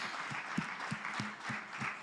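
Faint, scattered applause from an audience at a talent event, a few separate claps spread out and heard from a distance.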